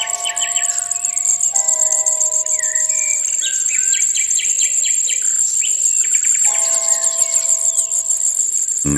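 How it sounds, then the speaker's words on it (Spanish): Five robin chicks beg loudly for food in a nest, with bursts of high, thin, repeated calls over a constant shrill insect-like whine, close and continuous. "sino 5 crías de petirrojo que reclaman a voz en grito su pitanza"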